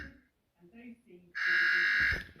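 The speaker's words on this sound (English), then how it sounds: "so now I've got the little buzzer down here" An electronic buzzer on a model Routemaster bus sounds as a bright, steady sustained tone following a moment of talk, close and fairly loud.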